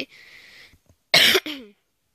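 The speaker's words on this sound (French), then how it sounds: "j'ai toussé dans mon micro." One sharp, loud cough right up close to the microphone, followed at once by a second, shorter cough after a faint hiss.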